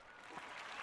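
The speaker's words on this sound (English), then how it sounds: "Wait till the studio audience stops clapping for you" Studio audience applause sound effect, a brief burst of clapping over a call-in sports radio show, faint and short.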